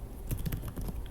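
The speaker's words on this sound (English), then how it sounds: "typing this command in" Fingers tap on a computer keyboard in a quick burst of close, light clicks, typing a command with no voice.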